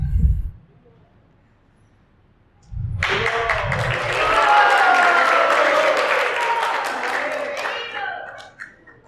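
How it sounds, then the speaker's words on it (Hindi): Applause from a crowd of devotees at a Sunday feast gathering in an outdoor garden, rising quickly after a brief spoken remark and sustained for several seconds before tapering off. "भक्त लोगों ने अपनी ताली खुद ही बजा लिया"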